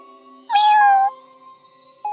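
A single clear cat meow, close and fairly loud, in a quiet room, with a short faint sound starting just at the end.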